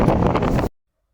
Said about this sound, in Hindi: भयंकर हवा चल रही है